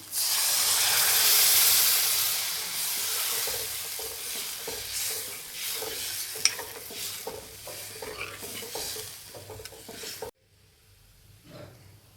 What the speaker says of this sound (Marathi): भाजीला उकळी आलेली आहे